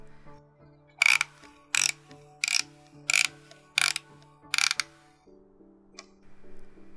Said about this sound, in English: It also has a film advance mechanism that sounds very satisfying to turn.